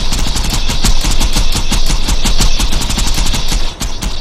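Rapid, continuous automatic gunfire from two dual-wielded guns in Borderlands 2, a loud dense stream of shots with a brief dip near the end before firing resumes.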